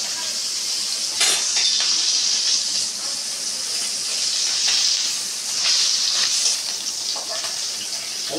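Small Puntius fish frying in hot oil in a pan, a steady loud sizzle and hiss with occasional spitting pops, continuous and close.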